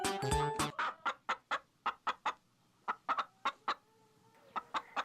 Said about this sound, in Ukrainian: курка каже ко-ко-ко, ко-ко-ко